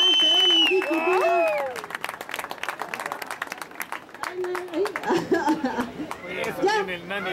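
Scattered clapping from the crowd at a surfing competition, with lively shouts and voices mixed in, starting thin and building into a denser patch of applause toward the end.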